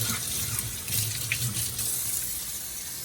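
Tap water runs steadily into a sink as dirt is washed off vegetables for a cabbage potato soup, a continuous moderate splash with no break.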